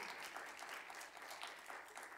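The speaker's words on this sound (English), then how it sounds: "Go ahead, you can give a clap." Audience applause at a community safety event with law enforcement officers on stage, faint, steady crowd clapping heard from a distance, continuous throughout.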